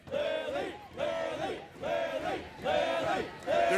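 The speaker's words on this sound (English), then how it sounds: "They're cheering for you?" A crowd cheers and yells at a Streamer Games round of Simon Says, in four rhythmic, chant-like bursts of moderate loudness that rise and fall about a second apart.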